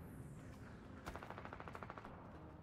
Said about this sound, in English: Ooh, I hear gunfire.